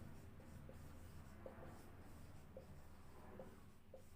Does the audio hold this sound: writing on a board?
yes